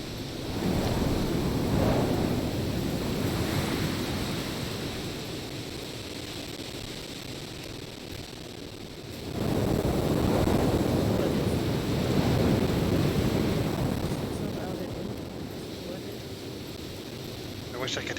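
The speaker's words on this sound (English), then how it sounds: "It's so loud and windy." Loud, steady wind roars through the Sons of the Forest video game, a broad rushing gust that swells, dips near the middle and surges back, with voices talking faintly underneath.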